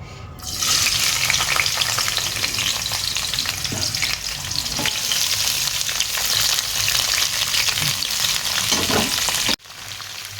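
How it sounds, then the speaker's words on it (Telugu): Ivy gourd (dondakaya) pieces frying in hot oil in a kadai, a loud, dense, continuous sizzle close up with stirring scrapes, cutting off abruptly near the end; no voices. "ఇప్పుడు మనం నేత దొండకాయలన్నీ వేసేసుకుందాము చూడండి"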